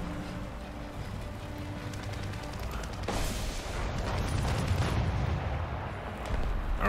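Mortar fire in the tank game War Thunder, a heavy low rumbling blast that rolls in midway and keeps booming over continuous battle noise.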